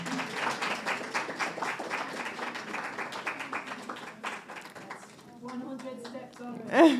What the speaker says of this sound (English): Clap her again.